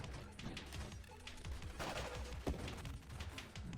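Rapid turret gunfire in the space shooter game Nova Drift, dense crackling bursts of shots layered over a steady game soundscape, with no voices.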